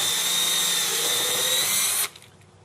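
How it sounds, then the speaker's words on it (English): A power drill whines steadily as it bores through a boat's fiberglass while fitting a Westland Bimini top, high-pitched and close, then cuts off abruptly near the end. "drill your hole through the fiberglass."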